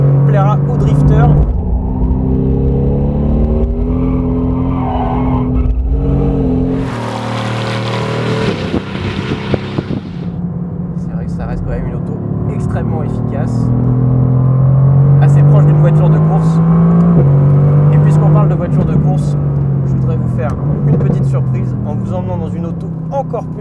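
A 585 hp Mercedes-AMG GT R drifts with its engine roaring and tires sliding, the engine note rising and falling throughout, with a sharp burst of tire hiss in the middle and someone talking over it.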